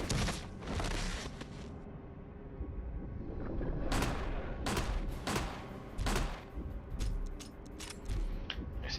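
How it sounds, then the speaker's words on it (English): Gunfire aimed at the Tyrant in the Resident Evil remake, a run of sharp, loud shots at irregular intervals over a steady background of game sound. "I just want to shoot tyrant a couple times"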